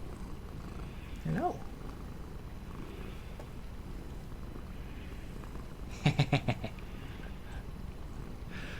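A pet cat purring softly up close in a low, quiet rumble beneath faint breathing, with a brief short call and a quick burst of rhythmic chirps, and a voice briefly speaking.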